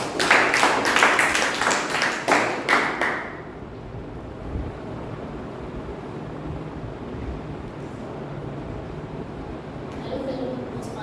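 Audience applause at a Toastmasters club meeting, a burst of clapping over the first three seconds that then fades into quiet room noise.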